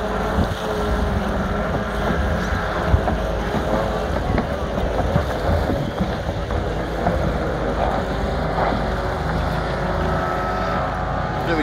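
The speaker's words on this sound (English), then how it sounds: "But these are cool little boats." Junior racing boats run a circuit around buoys at the Moree waterpark, their outboard engines a steady, close droning whine that holds for the whole stretch with gusty wind rumble mixed in.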